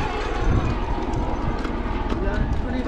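Horses clip-clop along a crowded mountain pilgrimage trail to Sheshnag lake, their hoof beats blending into constant crowd noise and talking.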